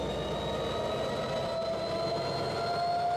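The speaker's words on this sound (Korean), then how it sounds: "이 기차는 디젤 엔진의 힘으로 간다." A steady 7,000-horsepower diesel locomotive engine on a Canadian train rumbles at a constant drone, close and loud, with a faint high whine above it and no voices.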